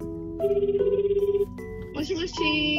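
A phone rings out on a call to a restaurant, a steady repeating electronic tone of about a dozen quick pulses, followed by a voice starting to talk.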